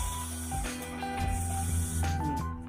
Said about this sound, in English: that sound is the water pump, that vibration